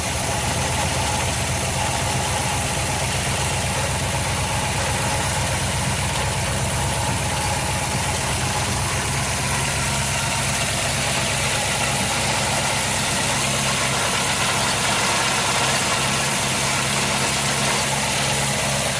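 A barn-find Pontiac Firebird's engine runs on its first start in over 20 years, a loud, steady, rough idle droning without a break close by.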